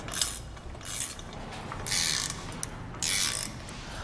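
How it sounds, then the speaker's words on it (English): Ratcheting clicks from a wrench tightening two crossbar bolts on a Malone two-tier LowBed MicroSport trailer, coming in short repeated bursts of fast mechanical ticking at close range. "we're going to go and tighten just these 2 bolts"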